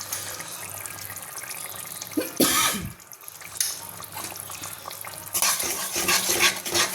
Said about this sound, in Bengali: দেখো, মশলাটা কষা হচ্ছে